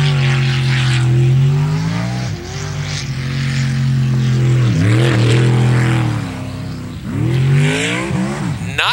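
A racing boat engine drones loud and near, its pitch sweeping up and down as it takes corners on a race course.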